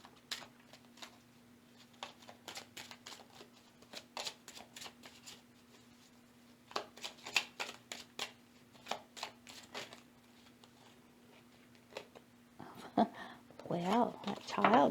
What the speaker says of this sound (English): Let's shuffle the cards and let's find out what our overall theme is going to be for group 2.